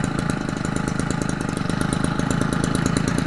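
A McCulloch Mac 32cc gas engine built for an RC racer runs on a temporary motor mount, giving a loud, steady, rapidly pulsing two-stroke buzz throughout with no talking.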